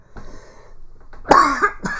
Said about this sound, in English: I tried to swallow that cough, but it didn't want to go that way.